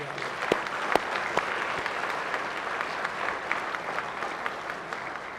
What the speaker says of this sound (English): how about a round of applause for all of our special guests